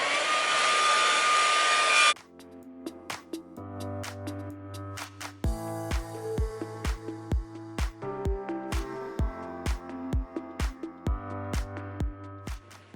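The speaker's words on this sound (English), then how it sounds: "with it on the cold setting, I'm gonna blow dry it all backwards" A hair dryer on its cold setting blows hair backwards. Its loud, steady whoosh lasts about two seconds and then cuts off, leaving plucked and tapped music playing alone.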